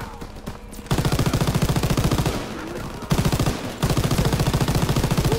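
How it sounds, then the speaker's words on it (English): Rapid machine gun fire in the World War II shooter game Call of Duty WWII, loud close bursts of evenly spaced shots broken by brief pauses between volleys. "You noobs are free firing"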